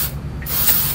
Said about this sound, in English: take a little bit of that fluid film and just spray a little bit around here